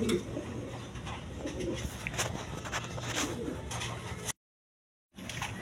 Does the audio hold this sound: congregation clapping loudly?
no